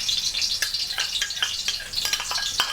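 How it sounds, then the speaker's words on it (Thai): Chopped garlic is tossed into a pan of frying shrimp, producing a steady hissing sizzle with frequent crackles and light stirring taps, close and moderately loud. "แล้วก็ใส่กระเทียมลงไปเลย"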